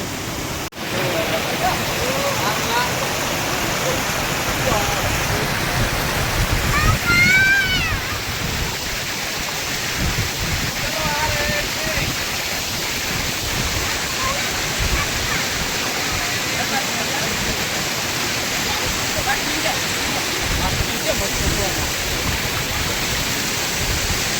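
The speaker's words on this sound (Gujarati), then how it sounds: "વરસાદી વાતાવરણની અંદર ખૂબ જ સરસ પાણી જઈ રહ્યું છે" Kundi waterfall pours in rainy weather, a loud, constant broadband rush of falling water that fills the scene with little change, while faint voices come through now and then.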